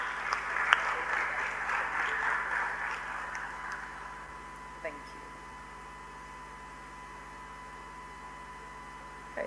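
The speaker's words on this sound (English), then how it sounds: "give our models a round of applause" Audience applause for the models at a Form 1 orientation assembly, a diffuse wash of clapping that swells briefly and then fades out, leaving a steady background hum.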